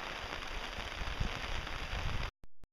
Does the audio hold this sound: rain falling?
yes